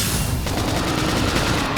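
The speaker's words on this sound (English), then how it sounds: "Flame grenade." A flame grenade goes off in Xenoblade Chronicles X, a quick run of sharp blasts and crackling bursts, with a fresh hit near the end.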